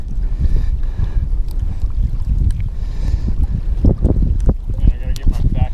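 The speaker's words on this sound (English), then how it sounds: "I gotta get my back to the wind." Wind buffets the microphone outdoors on open water while fishing, a steady loud rumbling roar that runs through the whole stretch, with a voice speaking briefly over it.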